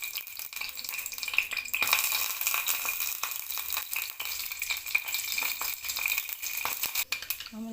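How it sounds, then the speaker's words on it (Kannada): Mustard seeds and cumin tempering in hot oil give a steady crackling sizzle, with stirring and light utensil rattles against the pan throughout, close and continuous. "ಒಗ್ಗರಣೆ ರೆಡಿ ಆಯಿತು ಸ್ನೇಹಿತರೆ."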